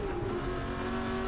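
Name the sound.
Ford GT40 race car engine at Le Mans Classic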